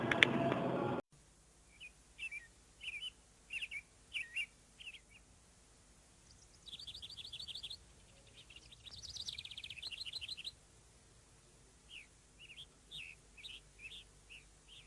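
Birds chirp and sing outdoors in short, repeated bright phrases with pauses between them, some trilled bursts standing out, fairly distant and soft against a quiet background, with no voices.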